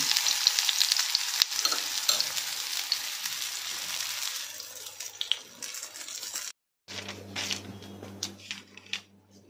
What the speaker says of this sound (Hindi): ये टिक्की देखिए हमारी फ्राई हो चुकी है।